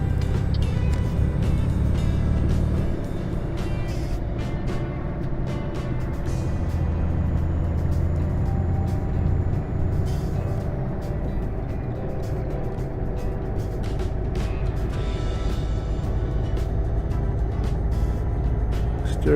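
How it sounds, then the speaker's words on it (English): A Scania truck engine drones steadily while driving in Euro Truck Simulator 2, a low continuous rumble with a brief heavier patch at the start and small clicks scattered over it. "So anyway, looks like I'm in a Scania"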